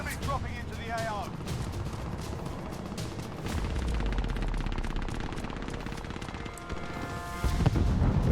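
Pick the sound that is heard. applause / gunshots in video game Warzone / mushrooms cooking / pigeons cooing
gunshots in video game Warzone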